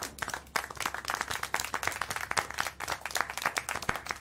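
Dense, steady clapping from a small group in the video game Syberia: The World Before continues for a few seconds with no voices over it.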